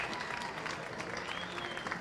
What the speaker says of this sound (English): How about a big round of applause for these two chefs doing what